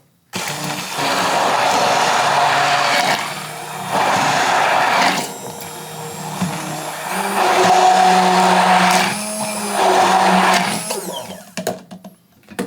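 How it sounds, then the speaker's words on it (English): An immersion blender whirs loudly and continuously, its pitch dipping and rising as it churns vinaigrette, then cuts off with a few clunks at the end. "Because I'm going to use an immersion blender."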